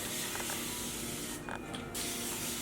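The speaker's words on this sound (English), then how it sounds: "So sprays out a fine mist of water continuously" A spray bottle puts a continuous fine mist of water onto hair, a steady close hiss that breaks off briefly midway and then resumes.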